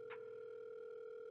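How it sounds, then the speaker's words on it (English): A phone on speaker rings out with a steady, faint, continuous ringback tone that holds unbroken throughout, with no voices. "allowing your phone to ring several times"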